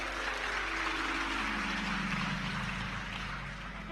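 A large audience claps at a Hindi devotional discourse by Pradeep Mishra, a dense and steady wash of applause that holds throughout and eases slightly at the end.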